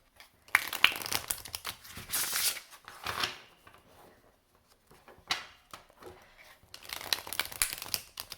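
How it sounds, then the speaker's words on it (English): Tarot cards riffled and bridged in a few bursts of papery flutter and crinkle, separated by brief pauses, close up with no voices. "you may notice it sounds a little different when you do your arch with the shuffle"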